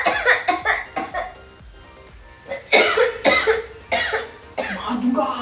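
A woman coughs repeatedly at home, several sharp bursts in quick clusters, close and loud, mixed with talk and laughter from others nearby.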